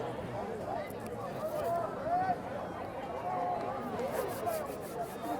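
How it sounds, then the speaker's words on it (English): Crowd at a night high school football game between the Trinity Christian Crusaders and Edmund Burke Spartans, a distant steady murmur and cheering beneath announcer talk. "Good crowd out here tonight to support the Crusaders for their final home game"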